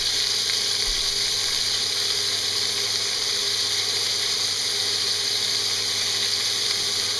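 Beef chunks brown for stew in a pot, a steady hissing sizzle with bright broadband crackle held evenly and close throughout, no voices.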